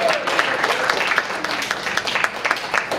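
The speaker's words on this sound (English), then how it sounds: "let's give them all a round of applause" A room full of people at a political gathering for election candidates breaks into a round of applause, brisk overlapping claps at moderate loudness, fairly close and steady.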